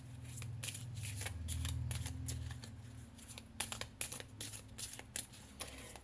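A deck of cards being cut and handled, soft riffling at first, then a string of sharp, close flicks and snaps, quiet overall.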